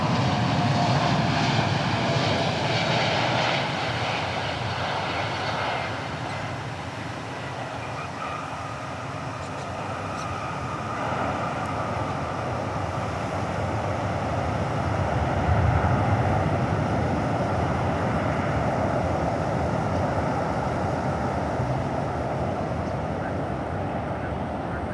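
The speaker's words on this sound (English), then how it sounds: "There's our 747-4." A Boeing 747-400 jet at DFW International Airport produces a steady, loud broadband engine roar that holds for the whole stretch, swelling slightly midway, with faint voices in the background.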